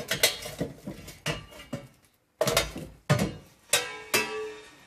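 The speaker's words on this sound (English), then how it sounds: "then just drop it into the fire basket" A wood log is tipped off a metal peel into the fire basket of a Bushman wood-fired oven, producing a series of sharp metallic clanks and knocks with short decaying rings, close and separated by brief silences.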